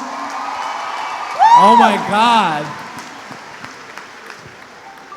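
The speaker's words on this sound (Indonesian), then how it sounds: "Tolong beri tepuk tangan sekali lagi" Audience cheering and clapping at a live stage event, a loose wash of crowd noise running steadily in the background while a man exclaims loudly over it.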